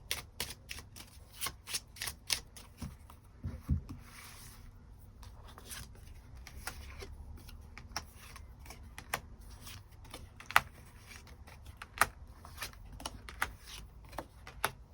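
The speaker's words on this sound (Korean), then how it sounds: "추가 카드로 일별로 월요일부터 일요일까지 어떤 하루하루를 보내게 될지 추가 카드 뽑아보도록 하겠습니다." Tarot cards are shuffled and drawn close by in a quiet room, a run of soft riffling flutters and crisp slaps and snaps repeating irregularly throughout.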